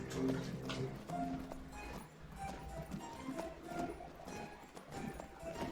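Horse hooves clip-clop in the King's Quest video game on PS4, a steady run of hoof strikes over game music and background ambience, with no talk over it.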